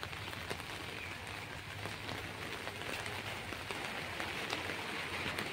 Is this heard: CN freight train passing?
no